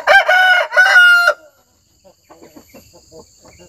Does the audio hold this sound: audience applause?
no